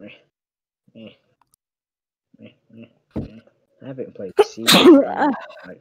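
A single sharp, loud human sneeze close to the microphone bursts out after a stretch of intermittent nearby talking, with soft clicks scattered before it.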